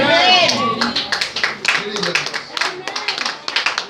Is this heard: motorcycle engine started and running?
no